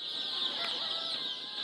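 White silkie chickens on a large farm raising about a hundred thousand birds, including many chicks; a dense, steady chorus of clucking and chirping fills the barn, close and continuous, with no talk.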